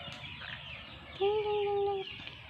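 Chickens being fed give a single clear, sustained call in the middle, standing above a low, steady backdrop of quiet yard noise.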